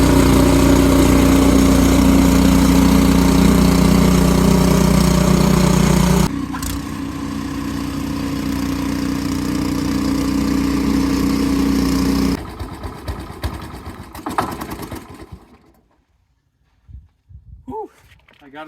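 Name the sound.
Powersmart 26 inch snowblower engine running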